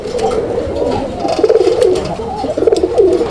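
A male pigeon calls with a rich, rolling coo, joined by other cooing pigeons, repeated throbbing phrases close and fairly loud throughout.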